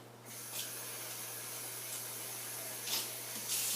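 Tap water runs steadily into a container while it is rinsed out during soap making, a close continuous hiss with a couple of brief splashy surges near the end.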